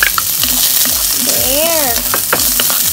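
Onions fry and get stirred in a pan while making seafood pasta, giving a loud, constant sizzle with repeated rhythmic scraping strokes and a brief tonal sound partway through.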